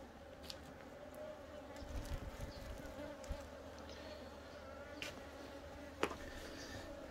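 Honey bees buzz in a steady, faint drone around an opened eight-frame beehive, with soft handling clicks and rustles scattered through.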